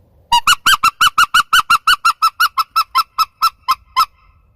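A mouth-blown turkey shock gobble call, sounded with air from the mouth and tongue rather than the diaphragm, gives a rapid, loud run of about twenty honking notes that slows slightly toward the end, heard alone.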